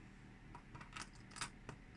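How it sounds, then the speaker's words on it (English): A set of handcuff keys jangles faintly, with a few light metallic clinks and rattles spread over a couple of seconds against a quiet background. "And these are a set of keys."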